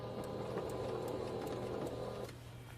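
A sewing machine back stitching a quilt, its rapid even needle chatter running steadily and close for a couple of seconds before stopping, with no talk.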